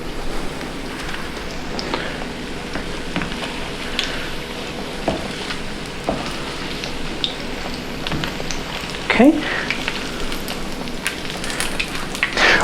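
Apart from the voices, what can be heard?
zucchini flowers frying in oil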